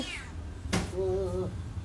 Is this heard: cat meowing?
yes